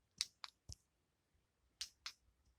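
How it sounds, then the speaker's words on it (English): Cheap earphone buttons click sharply, five crisp snaps close to the mic: three in quick succession, a pause, then two more, over near silence. "I'm gonna click one of these buttons and let you hear it."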